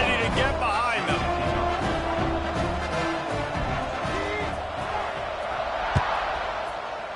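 Stadium crowd noise from a College Football 26 game, Syracuse against Pittsburgh in a rivalry matchup, a steady roaring wash of cheering fans sitting under a commentator's ongoing play-by-play talk.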